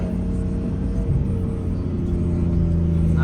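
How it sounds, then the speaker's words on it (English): A BMW F82 M4 under a hard pull on a coastal road, a steady loud engine rumble with a constant drone and a slight rise toward the end, heard from inside the car. "let me hear that turbo"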